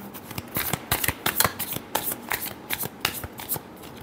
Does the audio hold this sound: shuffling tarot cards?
yes